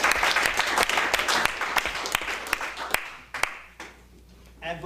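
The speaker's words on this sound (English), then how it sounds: "Please give them a big round of applause." A hall audience at an evening community event applauds staff from a supporting organization, the clapping full and fairly loud at first, then thinning to a few scattered claps before fading out, with a brief voice at the very end.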